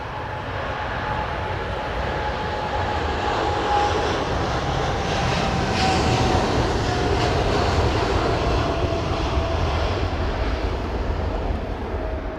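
An airliner taking off at London Heathrow Airport, its engines producing a loud, steady, unbroken roar throughout, heard from a distance with no voices.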